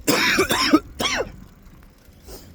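A person coughs and clears their throat in two or three rough, close bursts, then a quiet pause with faint room noise.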